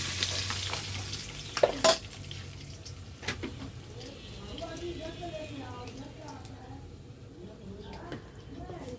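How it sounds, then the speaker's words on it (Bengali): Tangra fish frying in hot oil in a home kitchen, a continuous close sizzle broken by occasional sharp clinks and scrapes of stirring, with a voice talking over it. "মাছটা ভাজা হয়ে গেলো বন্ধুরা, এবার তুলে নেবো। ভাজা হচ্ছে ততক্ষণ।"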